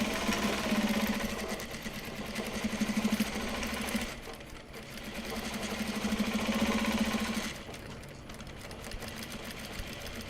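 A sewing machine stitching Japanese fabric bags hums in two steady mechanical runs of a few seconds each, with a brief quieter pause between them and a soft stop at the end, with no talking.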